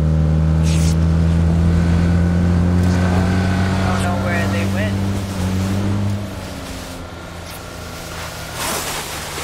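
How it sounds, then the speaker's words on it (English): A car engine in PUBG hums loud and steady nearby, then its tone shifts and fades a little as the vehicle moves off, with voices talking over it. "I hear a car to our left somewhere."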